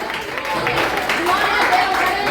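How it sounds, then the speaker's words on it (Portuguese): A church congregation at a Brazilian Portuguese communion service claps and praises, producing a dense, continuous wash of applause mixed with voices throughout. "Dê uma salva de palmas aplaudindo e louvando a Jesus"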